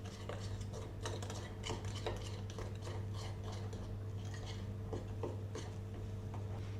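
A spoon stirs a sugar and flour mixture in a bowl for cozonac dough, giving a steady stream of soft scraping taps against the bowl, quiet and close, over a constant low hum.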